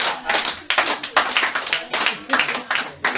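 A church congregation claps in quick, uneven bursts of hand claps at close range, with voices calling out and speaking over the applause.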